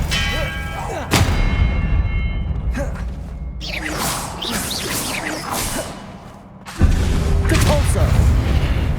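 Spell blasts from the video game Hogwarts Legacy crash one after another as loud, booming explosions and impacts, with a brief dip between bursts.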